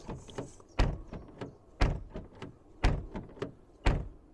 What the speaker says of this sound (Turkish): Kapı sesi güzel.